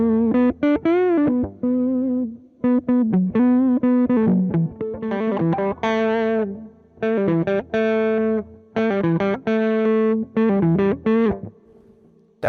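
An Ibanez JEM Jr electric guitar on its neck pickup plays distorted, sustained notes and chord phrases in bursts with short pauses, loud and up close.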